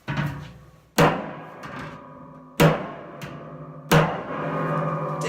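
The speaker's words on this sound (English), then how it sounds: "take this hammer and have an impact on the top of this drum over and over and over again" A hammer pounds the top of a metal drum being sunk about 4 inches into the ground, three hard ringing strikes spaced over a few seconds, each a sharp clang that hums and rings on between blows, close and loud.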